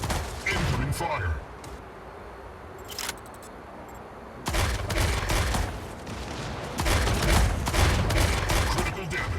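Rapid bursts of gunfire in a shooting video game, loud and close, with dense volleys near the start and again in the second half, separated by a quieter stretch, with a few voices around them.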